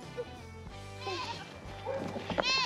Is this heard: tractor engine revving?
no